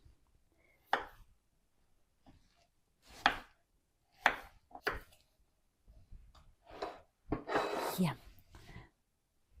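A knife chops through potatoes on a board in slow, irregular single strokes, with quiet whispering in between.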